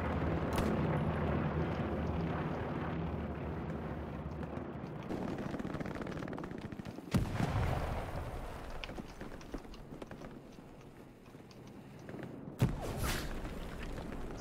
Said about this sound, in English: Is that your nade?